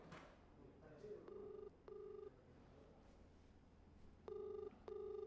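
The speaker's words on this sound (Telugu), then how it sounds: "ఎస్ఐ నెంబర్ రింగ్ అవుతుంది" Ringback tone of an outgoing phone call to a police sub-inspector's number, heard as repeated paired electronic buzzes at a steady rhythm, moderately loud over faint background noise.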